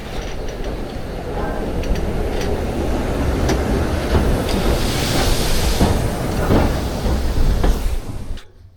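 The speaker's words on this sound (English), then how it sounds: "that was a London and South Western Railway Class T3 locomotive that will be pulling us today" A London and South Western Railway Class T3 steam locomotive train runs on a Dorset line toward Swanage, a steady loud rumble and clatter of carriages rolling past that cuts off abruptly at the end.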